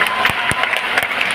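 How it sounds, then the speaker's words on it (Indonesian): Audience applause at a halal festival, dense and loud close-up clapping from a crowd, continuous with sharper individual claps standing out. "Tepuk tangan dulu dong untuk BI."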